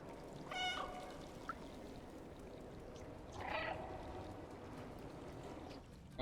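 A cat in the video game Stray gives two short meows over a steady watery, ambient game backdrop, with a faint click in between.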